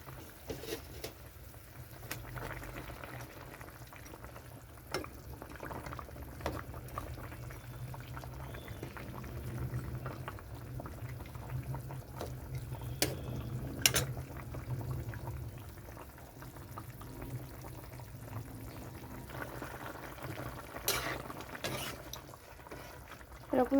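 A thin Bengali fish curry with potato and plantain bubbling in a pot, a soft continuous low simmer with occasional clinks and handling noises, quiet throughout.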